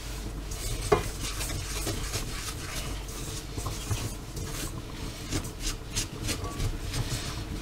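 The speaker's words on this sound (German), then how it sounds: "und rühren das wieder um." Fufu dough being stirred in a pot as water is added bit by bit, a steady close scraping and sloshing with a few sharper knocks of the spoon against the pot, no voices.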